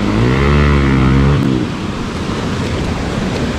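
A Hero Xpulse 200 motorcycle engine revs hard and steadily during a deep river crossing, then cuts out after about a second and a half, leaving rushing water and wind noise.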